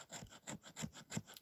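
The 90-degree spine of an Esee Izula knife scrapes a piece of fatwood into fine shavings, giving four quick, rhythmic, faint rasping strokes close by with no talking.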